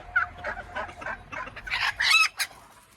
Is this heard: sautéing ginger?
no